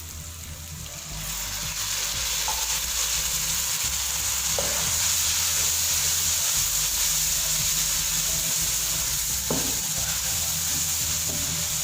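Spice masala of red chilli, salt, turmeric and garam masala sizzles hard in a pan after water is added. The loud, continuous hiss is broken by occasional stirring clinks.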